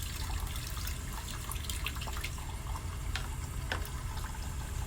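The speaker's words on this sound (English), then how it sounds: "At this point, I'm going to rinse the denture brush out." Running tap water splashes steadily while a denture brush is rinsed under the faucet, a continuous close wash of water with small bursts of spatter and no talking.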